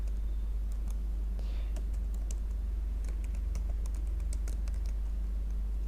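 Keyboard typing with a Ctrl+C and Ctrl+V copy-paste, sharp scattered clicks in short bursts over a steady low hum, close and moderately quiet, with no talking.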